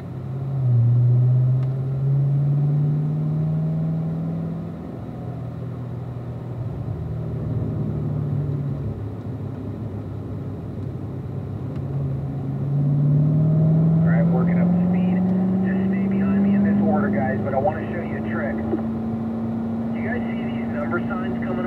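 A Corvette's engine drones steadily on a race track as the car accelerates, with a rising engine tone and a shift up to fourth gear partway through; someone speaks over the loud interior rumble.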